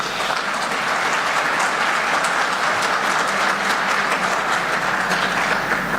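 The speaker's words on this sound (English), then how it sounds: "A big round of applause, please." Loud, continuous applause from a conference audience at a women's conclave, a dense wash of clapping that holds steady from start to finish with no speech.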